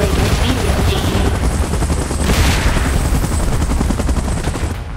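Helicopter with heavy gunfire in a giant-monster action scene, a loud, dense and continuous roar of rotor and rapid shots filling the whole stretch without letup.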